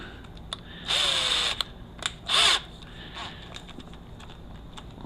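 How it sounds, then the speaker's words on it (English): A drill-driven hone runs in short bursts inside a valve body bore during cleaning, two loud whirring spells of about half a second each separated by quieter handling clicks. "And I'll use this hone."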